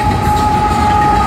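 An inbound Union Pacific manifest freight train passing nearby, a steady loud rumble of rolling cars with a sustained tonal whine throughout.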